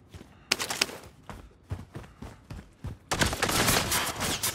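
Gunfire in Call of Duty Warzone on the Verdansk map during a quads match: scattered single shots and short bursts, then a dense sustained volley near the end, fairly loud and without talk.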